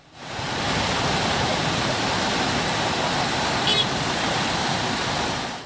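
Rushing floodwater roars in a constant, loud, broadband wash as a swollen river in Adivaram surges past nearby after heavy forest rain, steady from start to finish.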